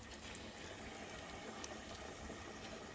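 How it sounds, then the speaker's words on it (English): Fish fillet sizzling in hot oil in a deep fryer basket, a steady dense hiss and fine crackle throughout, close and fairly quiet with no talk. "take our piece of fish, let any excess oil drip off, and then gently lower that into the fat"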